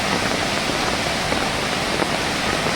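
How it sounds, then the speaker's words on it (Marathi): Floodwater from heavy monsoon rain rushes through a swollen stream and an overfilled culvert in Konkan, making a loud, continuous roar close by with no break. "पाणीच पाणी झालंय सगळं नद्या नायांना एकदम पूर"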